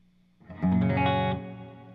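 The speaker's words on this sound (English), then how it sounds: "Let's pop on the reverb." Electric guitar with two humbuckers played through a Line 6 HX Effects reverb, a single distorted chord struck and ringing for under a second before cutting off, leaving a short reverberant tail.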